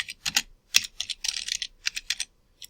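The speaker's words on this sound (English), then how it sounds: "I'm going to type in Henry Wallace" Quick bursts of keystrokes on a computer keyboard as a search term is entered, close and crisp clicks in uneven clusters with short gaps between them.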